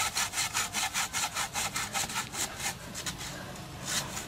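A small hand saw, about 30 cm long, cuts through a coconut tree trunk in quick, even back-and-forth strokes, a rhythmic rasping close by that speeds up slightly toward the end, with no voices.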